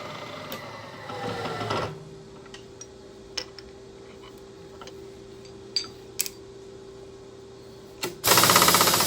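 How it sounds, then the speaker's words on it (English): A countersink chamfers a drilled hole on a Bridgeport milling machine, giving a steady low hum with faint scraping and a few sharp ticks, bracketed by louder bursts of machine noise at the start and end. "I'll chamfer the hole with a countersink to make starting the tap just a little bit easier"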